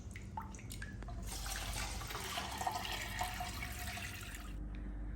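Water pouring into a 60-centimetre aquarium tank, a steady close splashing gush that runs for several seconds and then stops, with a few drips and clicks around it.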